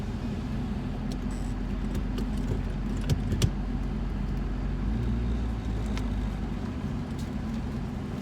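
A Honda Prelude drives along after brake work, its steady road and engine rumble continuous throughout, with a couple of faint brief clicks and no obvious grinding; no one talks.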